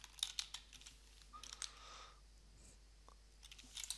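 Typing on a computer keyboard: quiet, irregular keystrokes in short bursts, close but faint, in an otherwise still room.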